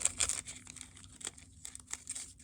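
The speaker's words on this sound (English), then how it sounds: "And then I'll put these in the smaller little zipper bag." Paper pieces slipped into a small plastic zipper bag give a steady, close, faint crinkling and rustling of plastic and paper with no voices.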